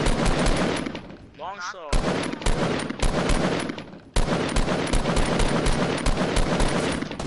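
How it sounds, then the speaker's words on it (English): Rapid automatic gunfire in a video game fills the clip in long loud bursts, broken by a brief gap in which a voice speaks. "out of all those shots, one hit"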